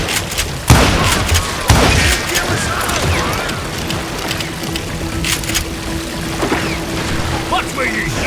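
Gunfire from the Call of Juarez: Gunslinger video game, two sharp loud shots near the start, then a steady noisy bed of distant shooting and rumble with a low hum underneath.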